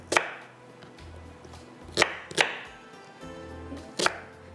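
A knife chopping an onion on a board while making carrot pickle: five or six sharp, close cuts in an uneven rhythm, with faint background hum and no talking.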